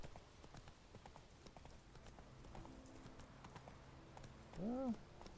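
Horse hooves clip-clopping at a steady pace in The Witcher 3, quiet and continuous, ending in a short whinny near the end.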